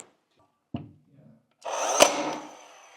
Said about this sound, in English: I'm going to try the nail gun thing